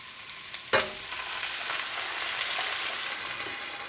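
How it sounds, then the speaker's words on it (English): Lentils hit a hot pan with a sharp clatter, then a bright, steady sizzle continues close by for a few seconds. "It's sizzling. That means that pan is hot."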